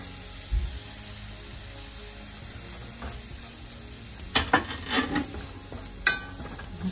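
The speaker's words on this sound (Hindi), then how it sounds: "अब इसमें मैं मसाले डाल" Spices drop into hot oil over fried garlic while gobi gajar achar is cooking. A steady, soft sizzle runs throughout, with a few sharp crackles and spoon scrapes toward the end, close up and without talking.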